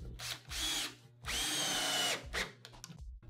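A power drill drives a screw straight into the edge of an AZEK composite deck board without pre-drilling, with two short bursts and a longer steady whine, loud and close, and no talking.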